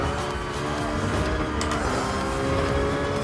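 Race car engines roar in Gran Turismo Sport during a GT League Vision Gran Turismo cup race, a steady, loud, dense engine drone with tyre noise, continuous throughout.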